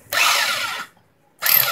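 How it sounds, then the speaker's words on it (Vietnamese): A Total rotary hammer drill for concrete, rated 4,000 rpm, runs in hammer-drilling mode: two loud, harsh, buzzing bursts close up, separated by a brief silence. "đó là nó vừa khoan vừa búa đó"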